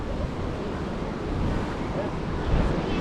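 Ocean surf rolls in below a viewpoint at Galle, Sri Lanka, near the lighthouse and fortress wall, a steady broadband wash of waves mixed with gusting wind noise on the microphone.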